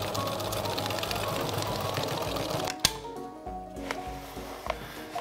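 A sewing machine stitches a tote bag made from plastic bags, humming steadily for nearly three seconds before stopping, followed by a few light clicks and taps.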